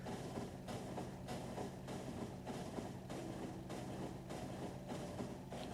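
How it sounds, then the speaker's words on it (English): Moving train in the video game Factorio, a steady rolling rumble with regular rhythmic clatter throughout, moderately loud and continuous with no talking. "And that little pink train is my refueling one."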